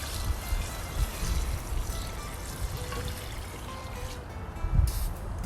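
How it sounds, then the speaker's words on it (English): Water is poured into a pot of Tuscan ribollita soup, a soft, continuous splashing pour heard close up and fairly quiet for several seconds. "Now we're just going to top it off with a little bit of water"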